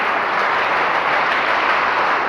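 Audience applause at a cyber security awareness workshop: dense, steady clapping from a large crowd, loud and continuous throughout with no pauses or talk.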